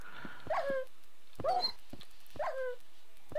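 A Minecraft dog gives three short whiny yips and whimpers, evenly spaced about a second apart, clear against a quiet game background.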